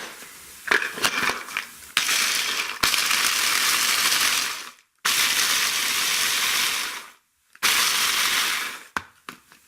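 A blender grinds nuts hard in loud bursts separated by brief pauses, a harsh whirring roar with some rattling clatter at the start and end.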